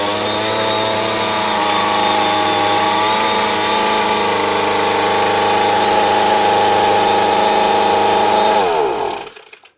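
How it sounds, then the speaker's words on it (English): A gas grass trimmer engine runs at a steady, loud, high-pitched buzzing drone for several seconds, then cuts off and winds down quickly into silence. "Then you're going to give it about 3 or 4 good pull starts."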